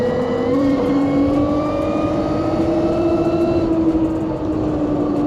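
A NIU XQi3 electric motorcycle on a test ride gives off a rising electric motor whine that climbs steadily in pitch under wind rush, close and continuous.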